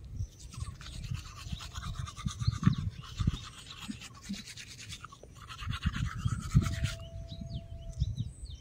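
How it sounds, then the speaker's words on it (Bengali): A toothbrush scrubs teeth in rapid rhythmic bursts of bristly rasping, close and clear, with a few short pauses and faint birdsong in the background. "চলো সবার প্রথমে কিন্তু ব্রাশ করাটা সেরে নিই।"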